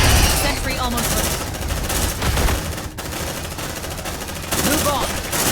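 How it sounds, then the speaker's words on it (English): Rapid automatic bursts from a deployed sentry gun in the sci-fi combat game Aliens: Dark Descent, loud and sustained, with shouted voices over the battle noise. "Deploying sentry gun."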